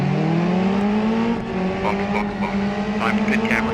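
Several F4 race cars run together in a BeamNG endurance race on lap 124 of a 12-hour event, engines droning and shifting pitch continuously, with brief tyre squeals. A commentator's voice is partly audible beneath the cars.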